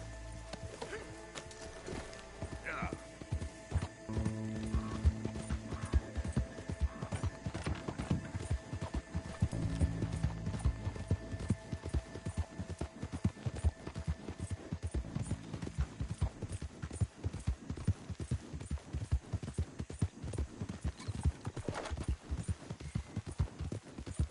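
Horse hooves clip-clop at a steady riding pace in the Red Dead Redemption 2 video game, a continuous rhythmic clatter running throughout, with a brief whinny and faint game background hum.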